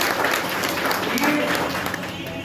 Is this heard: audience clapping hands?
yes